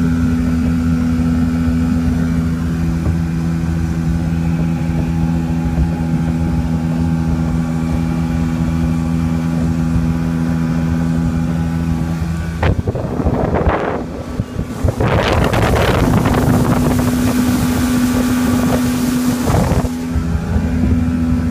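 A quiet premix outboard motor on a Maxum 1700 boat runs as a steady, even engine drone, with wind buffeting and water noise rising in the second half.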